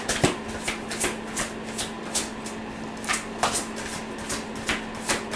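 Tarot cards being shuffled and drawn by hand, a soft, irregular run of papery flicks and snaps at moderate distance, repeating throughout with no talk.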